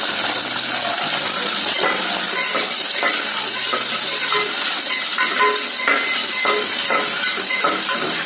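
Onions, green chillies and biryani leaves frying in a pan, a steady bright sizzle with soft scraping and tapping of a spoon as the mix is stirred, no talk.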